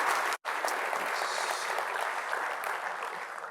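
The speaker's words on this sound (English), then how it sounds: "please do give him a very warm round of applause" A conference audience at a global air and space chiefs' gathering breaks into warm applause, a dense and steady wash of clapping that cuts off briefly near the start and then carries on evenly, fading slightly toward the end.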